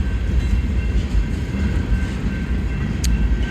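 Union Pacific manifest freight train, UP 5532, rolling slowly outbound at a street crossing in Tempe, a steady loud rumble of wheels and cars passing close by with a brief high squeal near the end.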